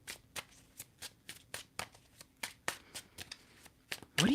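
Tarot cards being shuffled and drawn by hand: a string of crisp, separate card snaps and flicks at a steady rhythm, close up, ending in a louder rustle.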